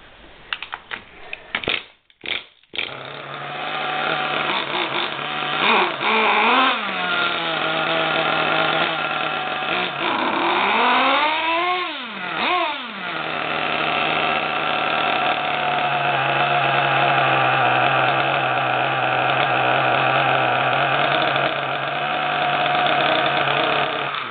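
A small nitro RC car engine sputters to life cold, then revs up and down in sharp whining bursts before settling into a loud, steady buzzing idle.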